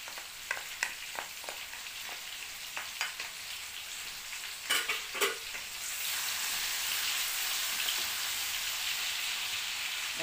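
Onion cooking in a pot for efo spinach soup with habanero, a soft hiss broken by scattered stirring clicks, then a steadier, louder sizzle in the final seconds; quiet overall and no talking.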